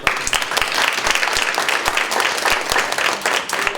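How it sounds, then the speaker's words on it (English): A crowd applauds steadily, dense clapping filling the space for a few seconds without a break. "So please, let's give a round of applause."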